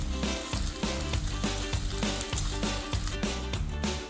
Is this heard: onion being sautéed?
yes